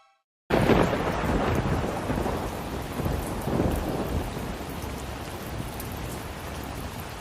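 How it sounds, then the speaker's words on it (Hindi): Heavy rain and a thunderstorm in a cartoon, a dense steady downpour with rumbling thunder that starts abruptly after a moment of silence and continues loud and unbroken throughout. "हे भगवान, ये तो भयंकर बारिश है।"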